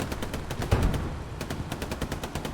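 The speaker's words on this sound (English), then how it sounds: "Oh, he just shot the cannon." Rapid bursts of gunfire and cannon fire from a tank battle in an online war video game, a dense run of sharp repeated shots with a heavier boom near the start, loud and continuous.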